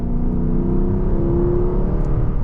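A sports car, either an Audi R8 or a Lexus LC500 V8, accelerating gently in a comfort or eco drive mode, giving a steady, muted engine drone and whir heard from inside the cabin that rises slowly without hard revving.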